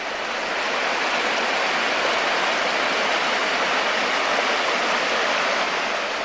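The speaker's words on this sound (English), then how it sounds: "I just love the sound of rushing water." Storm runoff rushes below Mina Sauk Falls in Missouri after days of heavy rain, a loud, continuous, close roar of churning water with no voices.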